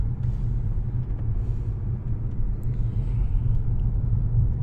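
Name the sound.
Lexus GS250 car riding on rough road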